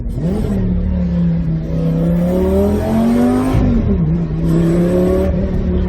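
A powerful Lamborghini engine revs loudly and steadily, pitch rising and dropping between gear changes, close and continuous.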